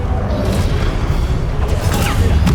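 A Confringo fire spell explodes in combat in Hogwarts Legacy, a loud, dense blast with a rumbling low body and a rushing swoosh that sustains through the moment, with faint clattering debris near the end.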